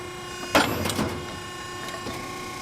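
A Piranha ironworker machine punches a hole through steel: one sharp loud clunk followed by a short rattling mechanical clatter, then a faint steady machine hum with a small knock near the end.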